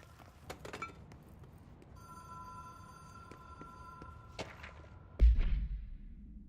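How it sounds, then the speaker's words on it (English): Electronic telephone ringing in the video game Control, a steady bright tone over quiet room ambience, with scattered soft clicks and a heavy thud near the end. "Hear the ringing?"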